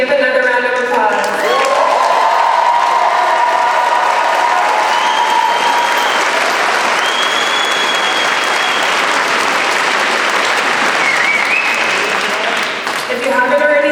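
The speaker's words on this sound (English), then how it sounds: "Can we give another round of applause?" A large crowd at the 2026 Bastyr University commencement ceremony in Seattle claps in sustained applause that stays loud and dense for the whole stretch, briefly topped at the start by a voice addressing the graduates.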